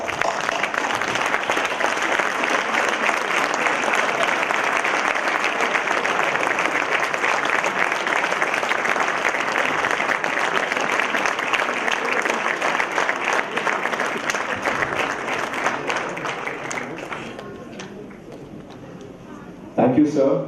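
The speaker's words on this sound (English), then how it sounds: "I just want us to stand up and just applaud them." Sustained applause from a standing audience at an institute alumni gathering, dense and steady for about sixteen seconds before tapering off, with a voice resuming briefly at the close.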